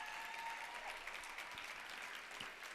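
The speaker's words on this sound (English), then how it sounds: "Could we give them all one more round of applause" Applause from the audience at King County's 2023 behavioral health legislative forum, a steady dense clapping that fills the room, fairly quiet and continuous throughout with no voices over it.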